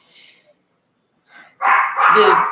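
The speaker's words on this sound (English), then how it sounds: "my dog is like barking" A dog barks close by, a couple of loud rough barks after a fainter sound and a short silence.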